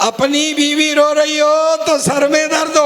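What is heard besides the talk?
No everyday noise stands out behind the speech.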